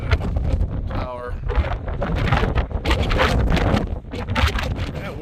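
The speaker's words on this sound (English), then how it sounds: "That wind is kicking." Strong gusts buffet the microphone at a mountain fire lookout above a valley in eastern Washington, a loud, continuous roaring rush, with a voice talking partway through.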